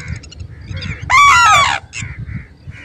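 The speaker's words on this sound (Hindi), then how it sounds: "ये देख सकते हैं टिटिहरी पक्षी जो है इनको परेशान कर रही है" A red-wattled lapwing harassing sarus cranes in a farm field gives a sharp, loud burst of shrill calls, close by, with softer bird calls and low rumbling before and after.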